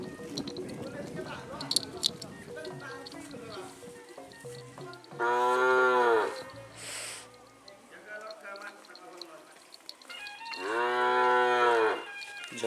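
Kerapan racing bulls low loudly in two long moos, one in the middle and one near the end, between quieter rustling and soft talk.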